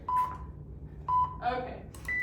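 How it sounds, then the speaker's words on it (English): A workout timer starts with two short, evenly spaced beeps followed by a higher tone, while a person talks over them. "I'm gonna start the timer"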